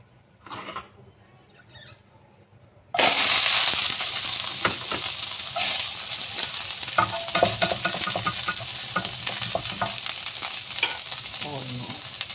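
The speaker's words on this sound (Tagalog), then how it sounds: "Let's cook our pork meat." Pork meat hits a hot pan after a quiet start and at once breaks into loud, steady sizzling. Crackles and pops run through the frying as the meat cooks, and no one speaks.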